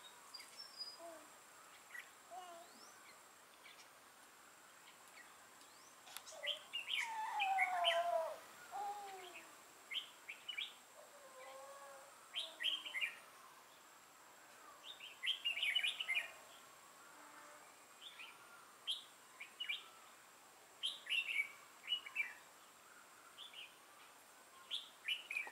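Red-whiskered bulbuls chirp and sing in repeated short bursts at a moderate distance, with bright whistled phrases and scattered tweets over a quiet outdoor background and no talking.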